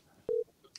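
A brief telephone keypad tone sounds once during a Korean late-night idol radio show as a listener's call is dialed, short and clear in an otherwise quiet line, with faint tones trailing after.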